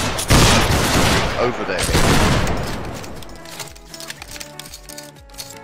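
A musket line volley in the video game Battle Grounds III, a loud ragged crash of many shots fired together that trails off into scattered clinks and gear noise, with a voice speaking briefly.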